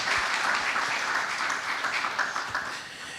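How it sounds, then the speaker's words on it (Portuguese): Audience applause at the close of a lecture on contemporary electoral dialogues, steady, dense clapping from a seated crowd, moderately loud and unbroken. "Todos na plateia aplaudem."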